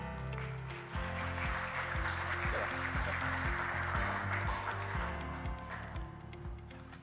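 Audience applause at a conference in Korea: a steady wash of clapping from a crowd that swells after the first second and holds, with soft low thumps underneath.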